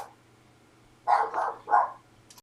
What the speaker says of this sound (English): The dog is defending me against, I'm sure, the neighbors.